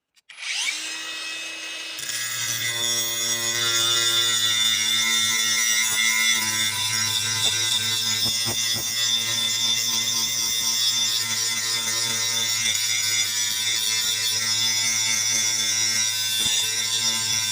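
A cordless angle grinder strips rust from metal, spinning up at the start, then holding a loud, steady, high-pitched whine for about fifteen seconds with no talk.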